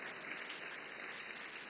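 A summit audience claps steadily, a faint, even patter of many hands heard at a distance and held at a low level throughout the brief moment, with no talking over it.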